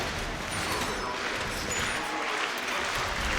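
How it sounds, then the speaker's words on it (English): A crowd at a Rainbow Six Pro League finals esports match cheers and applauds, a dense wash of noise heard at moderate distance throughout. "The crowd is certainly cheering for Empire at this point."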